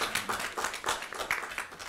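Applause from an audience at an academic symposium on justice in Baltimore, a short burst of scattered clapping in uneven pulses, moderately close and fairly quiet.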